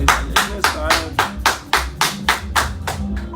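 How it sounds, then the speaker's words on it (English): Slow, deliberate hand claps ring out one after another, about a dozen evenly spaced sharp strikes close by, clapping for a caller during a live political talk broadcast. "Let's clap for him."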